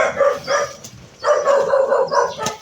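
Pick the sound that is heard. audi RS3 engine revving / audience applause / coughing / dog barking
dog barking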